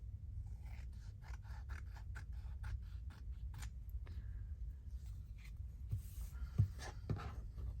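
Quick crisp snips of scissors cutting paper, a rapid irregular series close by, with faint handling noises between cuts and no speech.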